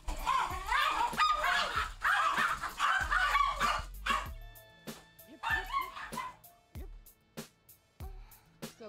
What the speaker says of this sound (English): let me let these dogs out